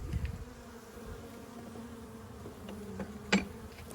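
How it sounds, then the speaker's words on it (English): Honey bees flying around an open hive during an inspection: a low, steady buzzing drone with individual bees passing close, one brief louder buzz near the end. "Lots of bees flying now, but everybody seems pretty calm."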